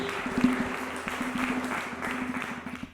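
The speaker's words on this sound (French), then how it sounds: "beaucoup d'acclamations pour Bellamy Paloukou" A crowd applauds steadily, dense clapping with a tonal hum underneath, continuous across the whole moment.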